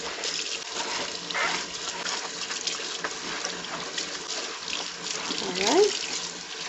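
Tap water running into a kitchen sink while cleaning gloves are rinsed after scrubbing a burnt pot, a steady splashing flow with a louder gush near the end and faint voice traces.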